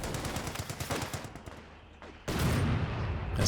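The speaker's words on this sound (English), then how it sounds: "That's the mortar pit doing, or mortar half-track doing rather." Mortar fire from a half-track in the video game Company of Heroes 2, a rattle of battlefield gunfire followed by a sudden loud blast and rumbling aftermath.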